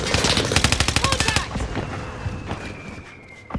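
Rapid automatic gunfire in Call of Duty: Warzone, a loud close burst of evenly spaced shots for about a second and a half, then a fainter, more distant firefight rumbling on in the background.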